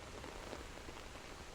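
Gentle rain falls steadily, a soft continuous hiss of raindrops pattering on a surface, quiet and even throughout with no voices.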